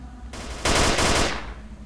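Automatic gunfire from a weapon in the video game STALKER: Call of Pripyat, a dense rapid burst that swells loud at mid-clip and then tapers off, with no talking.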